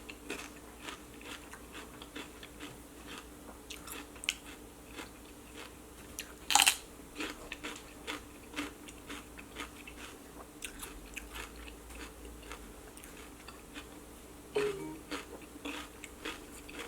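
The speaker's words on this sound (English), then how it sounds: "I've been eating carrots and cucumber and celery for a snack" Crunchy raw carrots, cucumber and celery chewed at close range, with repeated sharp bites and a steady run of crisp crunching over about seventeen seconds, no talking.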